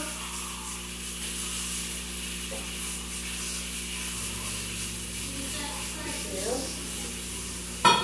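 A soft, steady sizzle of olive oil heating in a pan, faint and continuous, with a brief clatter near the end.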